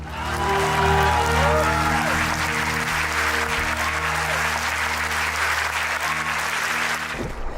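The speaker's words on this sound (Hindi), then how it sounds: "डॉक्टर हेडगेवार के सम्मान में तालियां" Loud, sustained applause from a large crowd at a live poetry event in Nagpur, honoring Dr. Hedgewar, steady throughout with a tonal hum underneath before it cuts off abruptly near the end.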